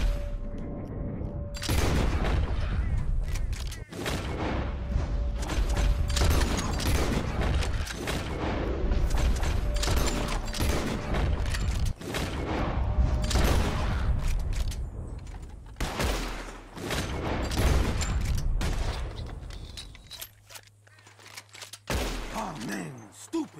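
Repeated gunshots ring out in rapid, overlapping bursts as players fire at birds overhead in the Red Dead Redemption 2 video game, loud and continuous for about twenty seconds before tapering off near the end.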